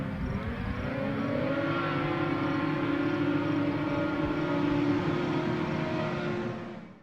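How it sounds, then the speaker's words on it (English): Mini Indy race cars at Mission Valley Speedway buzz with a high, nasal, mosquito-like whine. The pack holds an unbroken, fairly steady drone at moderate distance for several seconds before fading out. "A Mini Indy starts like a lawnmower, and one might think sounds like a pack of bloodthirsty Montana mosquitoes"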